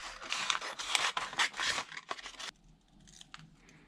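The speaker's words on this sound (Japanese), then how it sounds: "まずこのコピーを切り取ります。" Scissors cut steadily through a paper copy of a leather bag shoulder-strap pattern, with close, crisp snipping and rustling that grows quieter near the end.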